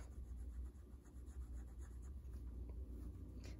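A Waterman Ideal 52 flexible-nib fountain pen writing on paper, a very faint, steady scratching of the nib moving across the sheet, quiet and close with no talking.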